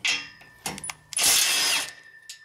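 Impact wrench spinning off 14 mm nuts on a Honda Civic starter: a few short close mechanical bursts, then one longer loud whirring rattle, followed by a brief final burst.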